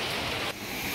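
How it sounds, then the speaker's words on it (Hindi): Heavy rain pours down on a city street while a food delivery rider is out on a scooter, a steady dense hiss that eases slightly partway through. "बारिश ही इतनी हो रही है"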